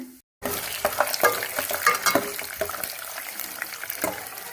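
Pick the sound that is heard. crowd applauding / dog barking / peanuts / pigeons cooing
peanuts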